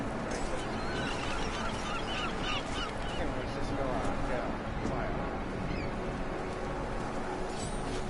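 Birds in the video game Deus Ex honk like geese, scattered calls rising over a dense ambient game background while a person talks throughout.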